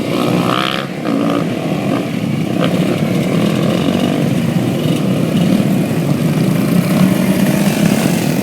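A chainsaw engine runs loudly and continuously outdoors, its buzzing drone steady as it cuts wood while building a check dam.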